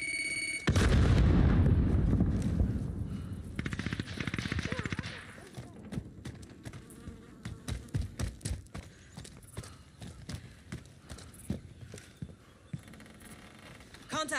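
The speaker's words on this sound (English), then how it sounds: "Throwing grenade." A grenade blast in a video-game gunfight opens loud and booming, then gives way to rapid bursts of gunfire and scattered sharp shots, with game voice callouts heard faintly.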